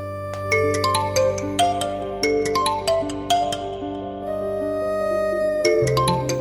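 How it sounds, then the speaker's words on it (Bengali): A mobile phone rings with an incoming call, its melodic electronic ringtone repeating in bright tonal bursts for several seconds, loud and close with no one speaking. "তানিয়া ফোন দিছে না তোর শাশুড়ি ফোন দিছে"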